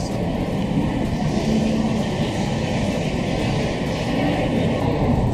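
Train locomotives rumble past nearby in a steady, loud, continuous roar of rail noise that never lets up, with no clear talk over it.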